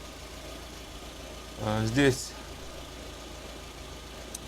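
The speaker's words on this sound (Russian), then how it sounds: "прогрелся у нас двигатель" A warmed-up Lada Kalina engine idles with a steady, low, even hum throughout, while someone speaks briefly in the middle.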